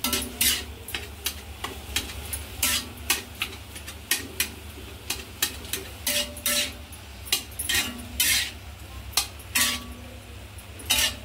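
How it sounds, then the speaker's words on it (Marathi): Vegetable curry being stirred in a kadhai pan with the heat just switched off: a spoon scrapes and clinks against the metal in a steady series of close, bright strokes over a faint lingering sizzle. "ही भाजी या कढईमध्ये चांगल्याशी मिक्स करून घेऊया."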